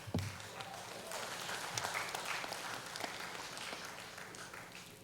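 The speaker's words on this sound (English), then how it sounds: "I do believe that the abattoir deserves a round of applause, please." Applause at an agriculture ministry presentation, a soft, distant patter of clapping from a modest audience that holds steady and then fades slightly.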